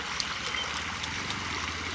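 Water runs steadily and continuously at a fishing spot, a close, even rushing trickle with no break across the whole stretch and no voices over it.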